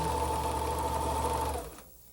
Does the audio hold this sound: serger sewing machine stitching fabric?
yes